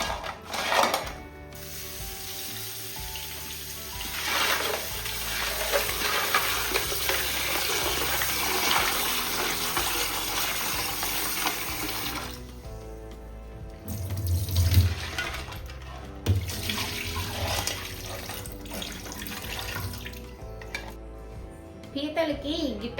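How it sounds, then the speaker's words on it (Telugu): Live crabs rinsed clean under a running tap before frying and cooking into a Konaseema-style crab curry, a steady splash and gush of water that swells and fades across the stretch, heard close with a voice talking over it. "ఇప్పుడు నేను వీటిని నీట్గా క్లీన్గా వాష్ చేసేస్తాను"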